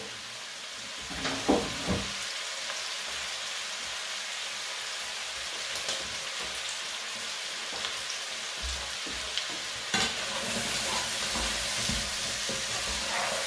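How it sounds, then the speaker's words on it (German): Sweet potatoes and salsa frying in a pan, a steady sizzle with occasional stirring clatter and scrapes, heard alone without talk. "Jetzt wird alles nochmal mit Salsa nochmal so angebraten, dass auch die Süßkartoffeln vom Salsa was abbekommen."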